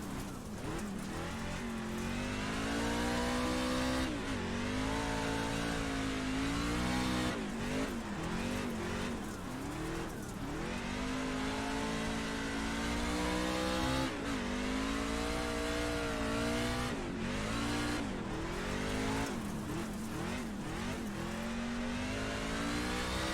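A dirt race car engine in iRacing revs hard and continuously, rising and falling with gear shifts and lifts through corners, loud and close, with tyres sliding on dirt.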